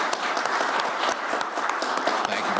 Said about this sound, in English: So give them another round of applause because they totally deserve it